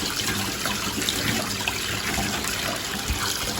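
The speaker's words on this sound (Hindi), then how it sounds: "तो इसको अच्छी तरह धो के साफ़ करके पानी इसका बिल्कुल खुश्क कर देना है" Water running steadily from a kitchen tap while liver is washed clean before cooking a karahi, a continuous hissing splash with faint clatter, alone without talk.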